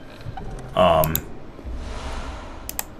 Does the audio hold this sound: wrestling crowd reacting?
no